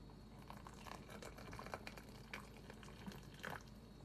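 Hot water poured over loose lavender in a kitchen, a soft liquid trickle and bubbling with faint splashy bursts, quiet and close, with no talking.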